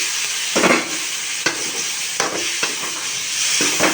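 Steady sizzling of chopped tomatoes frying in a pan, with periodic scraping and clinking as they are stirred.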